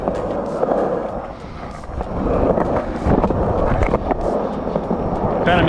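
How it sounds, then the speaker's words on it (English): A new skateboard rolls over pavement with a continuous gritty wheel rumble, broken by clacks and bumps from cracks and board movement, recorded close with wind noise and a voice talking at times. "Alright, now we can test out the new board."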